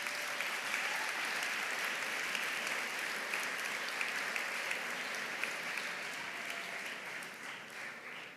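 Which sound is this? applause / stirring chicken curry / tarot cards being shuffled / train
applause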